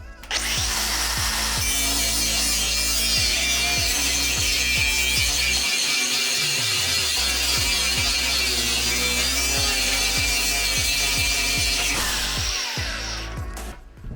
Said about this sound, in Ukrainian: встановив шліфувальний диск. Давайте позачищаємо, пошліфуємо